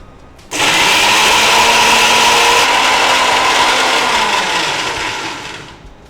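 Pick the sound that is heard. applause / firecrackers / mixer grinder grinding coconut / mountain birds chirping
mixer grinder grinding coconut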